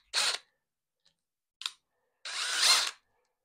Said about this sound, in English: So I'll put the drill in slow.